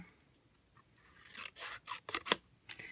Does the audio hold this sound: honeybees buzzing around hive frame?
no